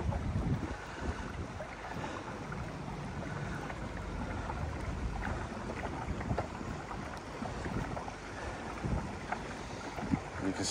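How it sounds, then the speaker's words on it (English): A motorboat passes a kayak on the water off Hernando Beach, Florida: a low, steady engine rumble sits under constant wind buffeting and faint lapping water, moderately distant and without talking. "Got a boat coming up on my left here."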